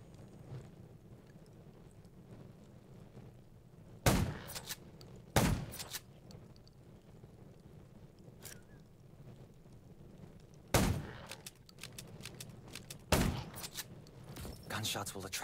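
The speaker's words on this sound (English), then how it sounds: "Gunshots will attract more." Gunfire in the zombie survival game Garena Undawn: four sharp, loud shots, two around the four-to-five-second mark and two more later, ring out against a quiet, low ambient background.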